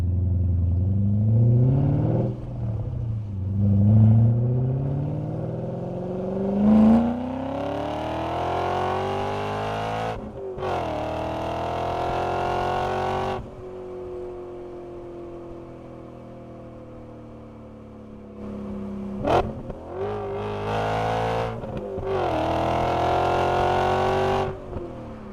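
BMW E39 M5 with a V8, its exhaust roaring through repeated revs and accelerations, pitch sweeping upward in waves with brief drops between, close and loud, sustained burble in the middle.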